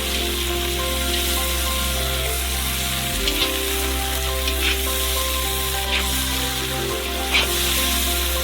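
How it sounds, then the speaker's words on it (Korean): Crayfish fry in hot flavoured oil in a pan, giving a loud, steady, even sizzle with occasional small crackles and pops throughout. "이제 기름에 향이 배겼고 가재를 튀겨주면 돼요."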